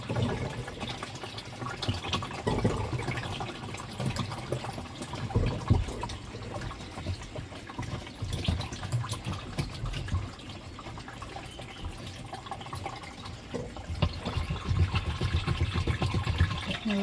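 Water splashes and rushes steadily for the whole stretch, a broad, close wash of pressurized water spray cleaning a washing machine, with no talking.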